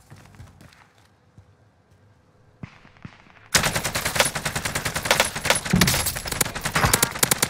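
A shooter video game goes from quiet ambience with scattered faint clicks into dense, rapid automatic gunfire, loud and continuous for the final several seconds.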